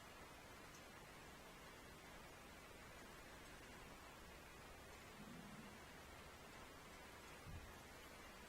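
Steady rain falls in a continuous soft hiss, quiet and even throughout, with a faint low rumble near the end and no talking.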